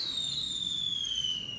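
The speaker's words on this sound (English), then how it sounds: "Fireworks every week." A fireworks sound effect with a bright descending whistle, like a rocket falling, over a dense crackling rumble, loud and alone.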